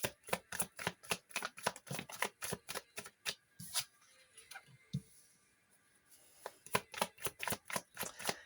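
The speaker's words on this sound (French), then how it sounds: "et tirer quelques cartes là" Tarot cards shuffled in rapid rhythmic bursts of riffling clicks, close and crisp, pausing briefly midway before resuming, with no talking.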